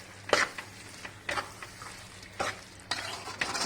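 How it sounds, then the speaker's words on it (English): Beef and garlic pickle ingredients for a Kerala-style beef pickle are stirred in a pan over a low sizzle. Four distinct scraping strokes of a spoon come at roughly one-second intervals, close and clear, with no speech. "Now we mix these ingredients once again."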